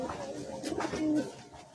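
Pigeons in a pigeon loft at Uluberia give a short, close burst of soft throaty cooing over background murmur.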